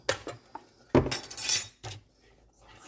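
Cornstarch is stirred into a peach sauce, giving several separate clinks and scrapes of a utensil against a pot or bowl, fairly quiet, with gaps between them.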